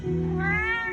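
A Maine coon cat gives a single close, clear meow that rises in pitch partway through, lasting about a second.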